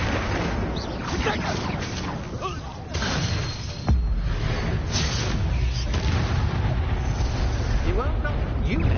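Confringo blasting spell from Hogwarts Legacy bursting in a loud, sustained boom that rolls into rumbling debris, layered over ongoing combat noise and speech.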